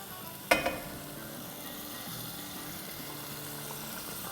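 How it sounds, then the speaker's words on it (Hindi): Besan gatte and their cooking water poured into a pan for a sabzi, a sharp splash and hiss at the start followed by a steady, quiet bubbling sizzle as the mixture is stirred. "और अब ये गट्ठे और इसका पानी दोनों साथ इसमें डाल देंगे।"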